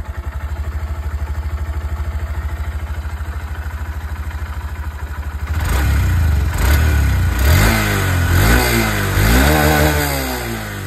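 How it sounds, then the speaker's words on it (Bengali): A motorcycle exhaust idles with a steady rapid thump, then a series of loud throttle revs rise and fall repeatedly, close and alone, from a bike in the under-1.5-lakh segment in India. "এক্সজস্ট সাউন্ডটা আপনাদের এখানে একবার শুনে নিন"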